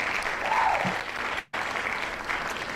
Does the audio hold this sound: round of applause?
yes